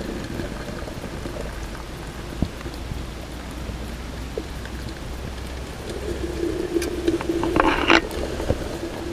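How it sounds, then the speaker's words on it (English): Hot water poured from a stainless steel Kelly Kettle Trekker camp kettle outdoors: a steady hiss and trickle that swells and grows louder near the end, with no talking. "you can safely hold it here and use this chain cork thingy to pour it."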